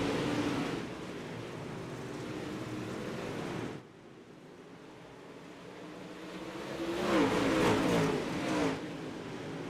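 Distant engines of UMP modified race cars roar and fade as they pass on a dirt track, a steady rumbling drone that dips briefly then swells louder again.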